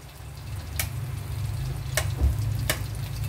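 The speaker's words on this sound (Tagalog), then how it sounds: "igigisa na natin yung bawang at sibuyas" Chopped garlic and onion hit hot cooking oil in a pan and sizzle steadily, with a soft continuous crackle and a few sharp pops.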